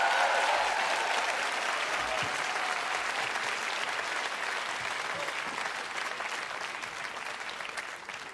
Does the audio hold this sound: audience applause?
yes